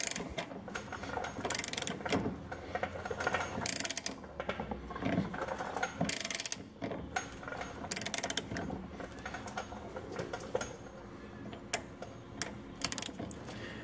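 A hand-cranked press forcing a ball joint into a Jeep WJ suspension gives off a steady run of close ratcheting, gear-like clicks and metallic creaks that continue throughout without talk.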